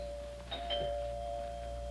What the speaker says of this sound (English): I rang the bell.